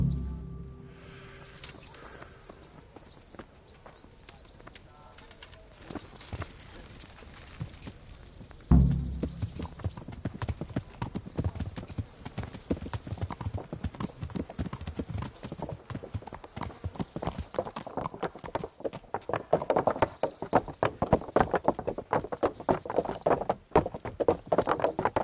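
Horse hooves clip-clopping in Kingdom Come: Deliverance, a brisk irregular patter that starts faint and then grows louder and busier after a sharp thump, continuing steadily close by.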